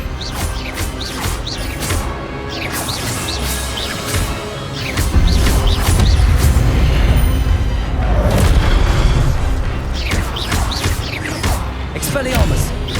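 Spell-casting effects in the Hogwarts Legacy video game, a string of loud booming blasts and whooshing bursts layered with crashes, with a voice calling out spells over the dense, continuous battle noise.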